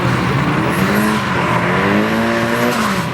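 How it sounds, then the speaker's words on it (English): A drift car at a competition sliding with locked front brakes, a steady tire screech over a roaring engine, loud and continuous, with crowd-like background noise. "He locked up the front brakes, which screwed with the steering"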